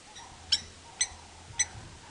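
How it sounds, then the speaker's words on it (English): Blacksmith lapwing by a dam giving three sharp metallic clinks, evenly spaced about half a second apart, faint and somewhat distant over a quiet outdoor background. "there's a blacksmith lapwing that's not very impressed with me coming around this side of the dam, making quite a bit of noise"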